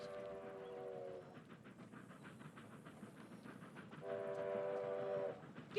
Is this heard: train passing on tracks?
yes